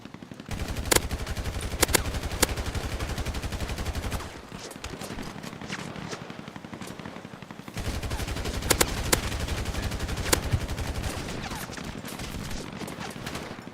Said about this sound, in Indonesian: Anjing mana tuh nembakin gua?